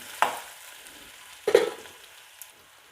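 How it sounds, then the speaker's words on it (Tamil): Onions sautéing in a pan for rava kichadi, with two distinct stirring scrapes standing out over a faint, steady sizzle, close by and otherwise quiet. "இப்போ இது நல்லா வதங்குது. வெங்காயம் நல்லா வதங்கட்டும்."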